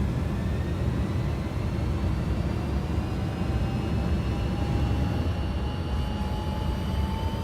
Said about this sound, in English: Okay, takeoff power is set.